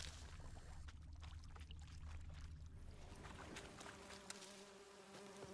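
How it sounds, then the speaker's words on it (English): Bees buzzing in The Witcher 3: Wild Hunt, a faint, steady drone mixed with low ambient game sound and no speech. "Oh, those are the bees."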